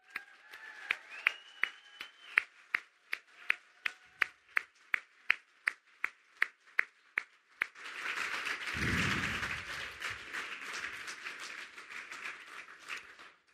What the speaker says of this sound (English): let's give them a hand for providing